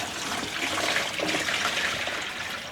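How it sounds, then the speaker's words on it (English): Water pours steadily into a container for dyeing a skein of yarn with ice at home, a continuous splashing rush that lasts the whole stretch without talk. "All right, so let's add in some water."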